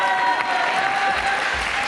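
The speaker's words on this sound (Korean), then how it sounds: "힘찬 응원의 박수" Clapping from a small group cheering on a student before a standing long jump contest at a sports admissions academy, a short burst of applause with faint background tones underneath.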